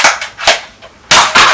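A pair of Nerf Strongarm blasters firing foam darts at a Star Wars Finn target, giving sharp, loud, close snaps in quick succession with brief gaps between them and no voices.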